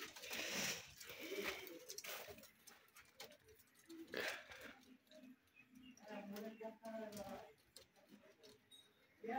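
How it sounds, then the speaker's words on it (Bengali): Colour-matched pet pigeons, including biskit, white, jira and muski birds with their young, coo in bursts amid a person's repeated calling sounds and talk nearby. "আজকে খুব চমৎকার চমৎকার কবুতর আছে।"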